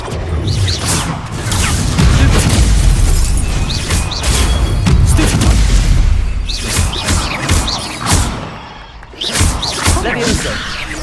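Incendio fire spells are cast in Hogwarts Legacy, loud bursts and whooshing booms recurring amid combat noise while a voice shouts throughout.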